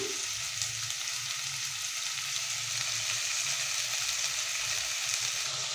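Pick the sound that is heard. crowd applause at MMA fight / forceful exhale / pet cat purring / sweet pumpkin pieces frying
sweet pumpkin pieces frying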